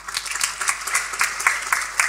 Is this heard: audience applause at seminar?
yes